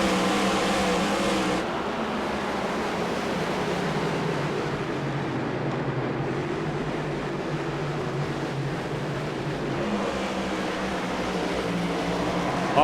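A field of race cars takes the green flag at the Charlotte Roval, engines roaring together in a loud, sustained drone that holds steady throughout, with no voices over it.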